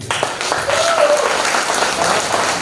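An audience at a network marketing event applauds to welcome a speaker, with loud, steady clapping that fills the room and a voice audible briefly underneath.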